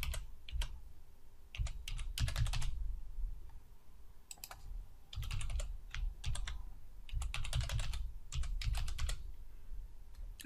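Bursts of computer keyboard typing come in several clusters of rapid clicks with short pauses between them, close and fairly loud, with no talking.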